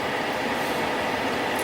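A long freight train rumbles past near Route 66 at Daggett, a steady broadband roar of rolling wagons and wheels that stays loud and unbroken throughout, with no other sounds standing out.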